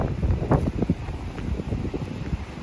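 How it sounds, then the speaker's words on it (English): Breeze blowing outdoors at a creekside campsite, a steady broadband rush with gusty buffeting against the microphone that continues through the whole stretch. "And there's a breeze blowing."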